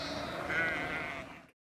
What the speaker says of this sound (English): Oh man, look at these sheep.